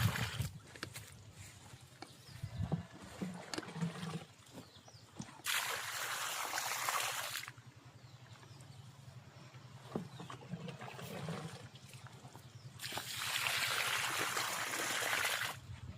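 Irrigation water flowing around a pomegranate plant, a gurgling trickle with bursts of louder rushing and splashing, heard close at a modest level.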